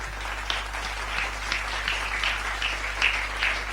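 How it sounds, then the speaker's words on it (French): A church congregation applauding for Jesus during a French-language sermon: steady, dense clapping with scattered sharper claps, moderately distant and fairly soft, with no speech over it. "Est-ce que quelqu'un peut acclamer pour Jésus?"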